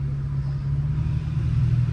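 A loud Infiniti Q50 with its muffler deleted idles and rumbles steadily, a deep, continuous exhaust drone sitting close to the microphone for about two seconds with no talking.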